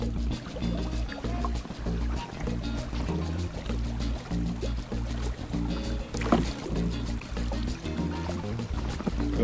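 Oars dip and pull through river water as a small boat is rowed, rhythmic splashes and drips over a steady low hum, with occasional faint voices in the background.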